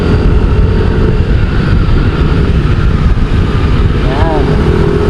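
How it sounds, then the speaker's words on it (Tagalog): Motorcycle ridden at night from Sta. Cruz through Pagsanjan toward Caliraya in Cavinti, Laguna, with a loud, steady engine drone and wind roar close up for the whole stretch, with no clear talking. "Yung nasa una nito isang motor si Arwin."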